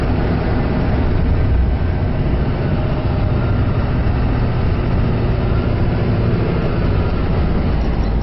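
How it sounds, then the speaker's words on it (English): Engine of a 2012 Toyota Coaster bus running in fourth gear, heard from inside as a steady, even low drone with road rumble and no talk over it. "It's got a very nice motor in it."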